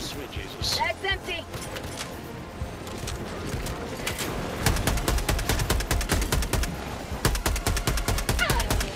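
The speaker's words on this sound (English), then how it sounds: "this concussive gun is so much better than the shotgun" A concussive gun fires repeatedly in the video game Helldivers 2, mixed with other gunfire and in-game explosions; rapid, punchy shots grow denser in the second half, close and loud, while a player talks over the action.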